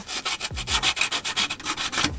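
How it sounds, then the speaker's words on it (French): Fine 320-grit sandpaper rubs back and forth by hand over the cracked oil pan gasket face of a Peugeot 206 CC 2.0 S16, about a dozen quick rhythmic scrubbing strokes, close and fairly loud. "je passe un petit coup de ponçage au grain assez fin"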